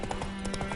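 Roach the horse's hooves in The Witcher 3, a quick run of rhythmic clip-clop steps, fairly faint against a steady background tone.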